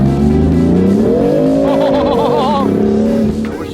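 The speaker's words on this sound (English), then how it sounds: "feeling this car just with no effort slide" A Lamborghini sliding sideways: loud, close engine roar with a rising pitch as it revs, joined partway through by a wavering tire squeal, then easing off at the end.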